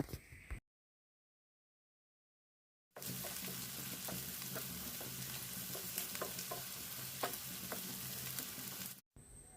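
Ivy gourd roast sizzling in an open pan while being stirred, a steady close frying hiss with scattered scraping taps of the spoon, starting after a short silence and running to the end.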